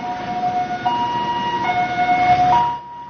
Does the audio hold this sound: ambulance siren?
yes